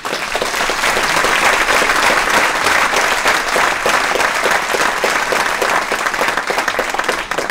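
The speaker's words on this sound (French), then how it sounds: "Vous pouvez l'applaudir" Sustained, loud applause from an audience at a workers' meeting on 8 March against war and for the rights of women workers, dense clapping filling the whole stretch without letting up.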